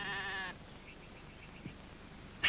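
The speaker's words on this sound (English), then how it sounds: "look after the dog and the lamb while Carlos is out with the sheep" A single lamb or sheep bleats once, loud and close, then falls quiet over faint outdoor background noise.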